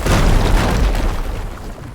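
Explosion in Horizon Forbidden West, a loud, dense roaring blast with heavy low rumble that holds for about two seconds before easing off slightly.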